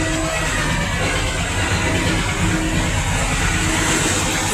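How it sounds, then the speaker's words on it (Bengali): Loud, constant engine drone fills the deck of the river launch MV Pubali-6, a dense mechanical roar with low throb and broad hiss, unbroken throughout. "এখানে অনেক সাউন্ড, ইঞ্জিনের আওয়াজ"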